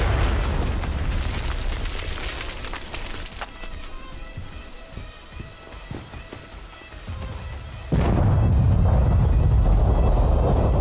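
Game gunfire and blasts in Sand: Raiders of Sophie, a loud rumbling barrage of booms and pops that thins out midway, then a sudden heavy roar that holds to the end.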